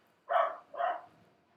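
A dog barks twice in quick succession, two short, fairly loud barks about half a second apart, with no talking over them.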